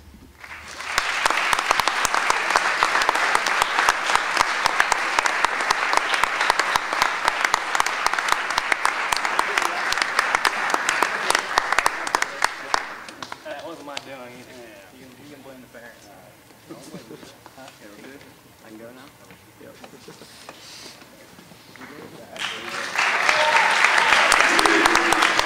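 An audience at a college athletics recognition ceremony claps in a dense, steady burst of applause for about twelve seconds, fades to quieter scattered sound with talking, then breaks into fresh applause near the end.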